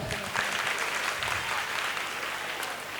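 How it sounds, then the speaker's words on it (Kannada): Audience clapping at a village fair during a humorous speech, a dense burst of many hands applauding together, steady and fairly distant, without talk over it. "ಇನ್ನೊಂದು ಸಲ ಚಪ್ಪಾಳೆ ತಡ್ರಿ"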